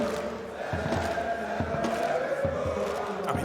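The crowd at an ESL Rio 2022 Counter-Strike esports match makes a steady roar of cheering and chatter in a large arena, with no distinct voice standing out.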